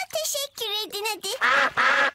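Cartoon ducks from the animated series Peppa Pig quack in a quick run of bright, voiced calls, ending with two louder, raspier quacks, with no talk over them.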